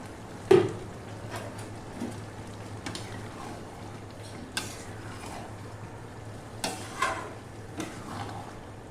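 Ghee hits hot mung dal cooked with green jackfruit, giving a soft sizzle with a sharp clack near the start and a few light utensil taps and stirs over a low, steady hiss.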